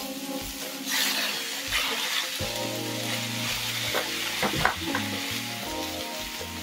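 Moringa leaves sizzle loudly in a hot pan while being stirred, a steady frying hiss with scattered clinks and scrapes, close and continuous with no talk.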